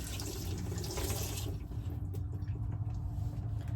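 Running tap water splashes over a weight being rinsed off for a sauerkraut ferment, a close, steady gush that thins out after about a second and a half into a quieter trickle.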